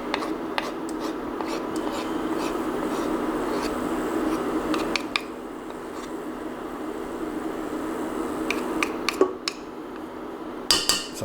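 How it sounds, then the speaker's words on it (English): A spoon scrapes sauce off against a pan while cooking a brisket ragu, giving a quiet, continuous scraping with scattered small metallic clicks and taps. "scrape off some of this stuff off this spoon"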